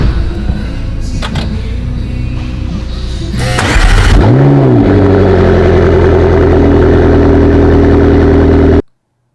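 A McLaren 12C sports car engine cranks and fires up loudly at close range, with a rising revving roar, then settles into a strong, steady idle before cutting off abruptly.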